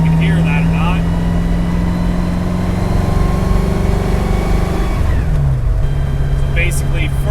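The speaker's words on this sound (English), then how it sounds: "I'll probably tear the transmission apart and try and get rid of this whine" A 1965 Mercury Comet driving in the lower gears, its transmission giving off a steady whine over the loud engine drone, with a pitch drop at a gear change; someone talks over it.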